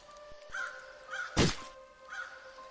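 Evil bird cawing in the Farmer vs. Evil VR video game, repeated crow-like calls over a steady tone, with a single sharp loud thunk in the middle and no talking.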